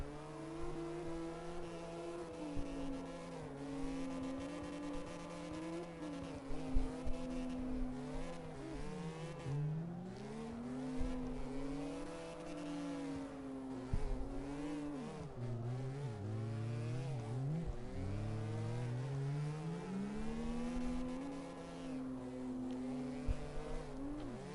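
A drifting car in the CarX Drift Racing video game, its engine revving loudly and continuously, pitch sweeping up and down as the throttle changes, with hints of tire squeal and no talk.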